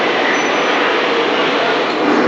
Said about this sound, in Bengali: আমাদের এই ট্রেন 15661 রাঁচি কামাখ্যা এক্সপ্রেস পৌঁছালো বিন্নাগুড়িতে